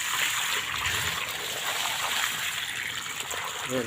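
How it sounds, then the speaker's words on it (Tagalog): A full bucket of water is poured onto plants during a drought, making a steady, close gushing splash that runs without a break and with no talk. "buhusan po natin ng isang balding tubig"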